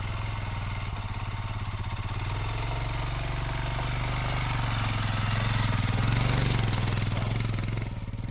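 A motorcycle engine on a forest trail cranks and catches, then runs with a steady, close mid-pitched chug that swells and holds loud before easing off at the end.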